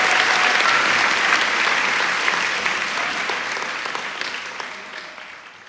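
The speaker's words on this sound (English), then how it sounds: "Give that woman a round of applause because she's a hero." An audience gives a sustained round of applause at an evening event, a dense wash of clapping that fades slowly over several seconds.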